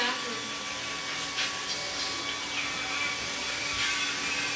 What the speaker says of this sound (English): She got her hair stuck in the blow dryer.